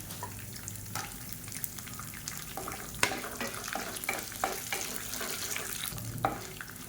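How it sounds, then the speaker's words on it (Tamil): Garlic, chana dal and Kashmiri chillies fry in oil for tomato chutney, giving a soft, steady sizzle broken by several scraping stirs. It sounds quiet and close, with no talking. "இப்போ பூண்டு லேசாக வதங்க ஆரம்பிச்சிருச்சு"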